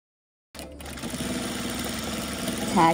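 A sewing machine runs steadily, stitching the seam of a fringe pillow, a close, even mechanical whir that starts abruptly after a short silence and grows slightly louder toward the end.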